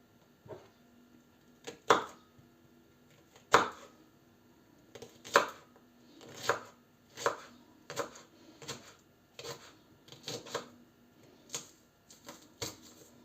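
A knife chops homegrown young onion on a board in a home kitchen, in roughly a dozen sharp, uneven taps with short pauses between them, close and fairly loud, with no talking.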